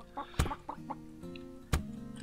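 Several chickens cluck in short, uneven bursts in the video game Superfluous Sand, with two sharp thuds breaking through as they are kicked, close and fairly loud.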